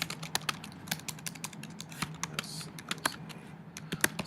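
Fast typing on a computer keyboard, a steady run of crisp, close key clicks with occasional louder strokes, heard alone and continuing without pause.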